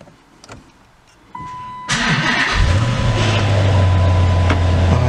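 A Dodge SRT8 car engine starts and then runs with a steady deep rumble as the car pulls out, close and loud, preceded by a few clicks and a brief tone, with no talk.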